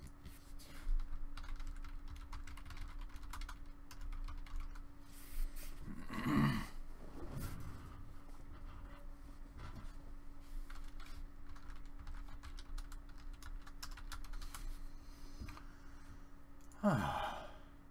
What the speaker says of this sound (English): I'm sorry about the typing.